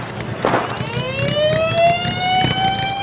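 A Ventura Sheriff's patrol car siren wails with a steadily rising tone, loud and close, over a low rumble of traffic and wind, with no talking.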